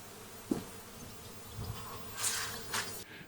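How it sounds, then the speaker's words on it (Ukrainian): Faint buzzing of bees outdoors, a soft, steady hum with a few passes swelling louder as insects fly close. "послухайте, що тут роблять бджоли. Ви чуєте цей звук?"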